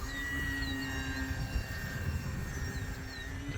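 A Mamba 10 G1 RC airplane on its maiden flight in light wind, a continuous engine whine and rushing drone passing overhead, fairly loud and steady, with wind noise underneath.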